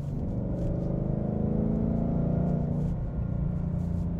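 A 2018 Mustang GT in sport mode drives in third gear, its engine and exhaust giving a steady, loud, close low rumble that holds level for the whole stretch with no talking.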